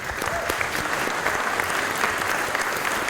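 An audience at a convention breaks into sustained applause after a president's report, dense steady clapping from a large crowd filling the room.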